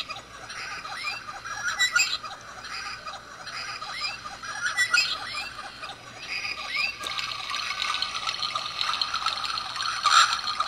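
Recorded bird-chirp nature sound played from a Timex T122NW digital alarm clock, repeating chirps and warbles over a steady trickling background, fairly faint and tinny, with no talking.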